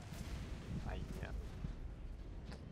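Heavy cannon fire rumbles in the Mass Effect video game, a dense, sustained low boom under steady battle ambience with a few faint higher chirps over nearly three seconds.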